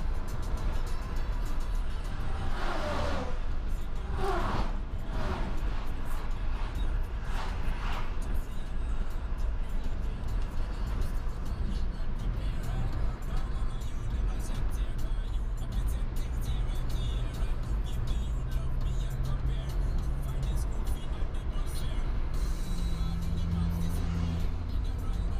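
Car driving along a road near Antonio Dias, Minas Gerais, with continuous engine and tire rumble from inside the vehicle, a few louder swells like passing traffic, and faint talk now and then.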